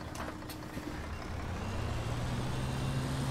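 A Mercedes-Benz O530 E2 city bus with ZF gearbox in the OMSI 2 driving simulator idles and rumbles with a steady low engine drone that swells slightly, with brief clanks and a faint tone early on.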